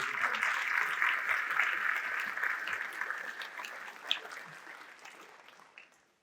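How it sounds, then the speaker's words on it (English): Applause for community members at a high school senior recognition awards night, a dense clapping crowd that starts strong and gradually thins and fades away to quiet by the end. "So please join me in a round of applause for our many community members."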